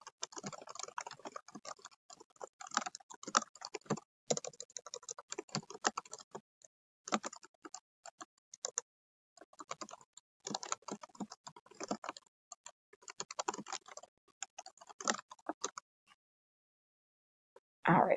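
Fingers type on a computer keyboard to write an email, with steady irregular clacking in close, fairly quiet bursts and short pauses, and no talking.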